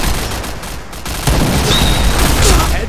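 Gunfire in the video game Point Blank, loud dense bursts and booms in a cluttered game mix, with a louder stretch after the first second and no speech.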